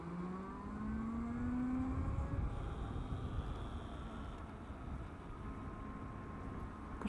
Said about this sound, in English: This is full throttle.